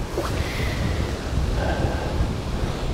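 Wind gusting over a lake around a small fishing boat, a continuous rough rush of wind buffeting the microphone at moderate level, with no voices.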